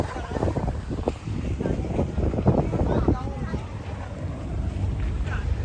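A semi-submarine tour boat on the Red Sea rumbles along with strong wind buffeting the microphone, a low constant drone and muffled voices in the background.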